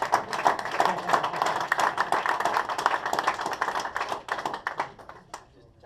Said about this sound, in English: So here, loud, warm applause for Sean Drohan.